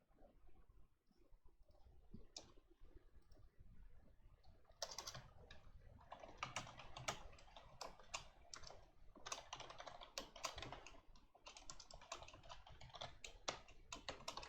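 Rapid bursts of typing on a computer keyboard during a programming session, close and clear, with steady clicking clusters and brief pauses and no talking.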